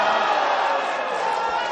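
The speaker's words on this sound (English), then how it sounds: "Didn't like the cheering when he went in off." A pool championship audience cheers, with applause and excited voices forming a steady, dense roar that stays loud for the whole moment.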